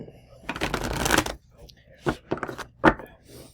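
Playing cards being shuffled up close, a long riffling burst followed by several shorter flicks and snaps of the deck.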